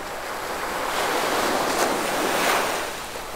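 Ocean surf rolls onto the beach at Pantai Cisolok near Palabuhan Ratu, by a wide river mouth. A continuous close wash of waves swells and recedes twice, with some wind noise and no voices.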